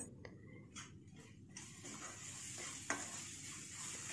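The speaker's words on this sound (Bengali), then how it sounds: "লবণ আর হলুদ গুঁড়োটা দিয়ে ভালো করে মিশিয়ে নিলাম" A spoon scrapes and stirs salt and turmeric into masala frying in a pan for methi malai chicken, with soft sizzling and intermittent scraping strokes close by.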